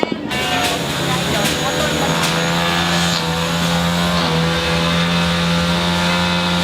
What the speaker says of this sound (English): the guys are putting motorbikes, the full engine on, they're shouting whatever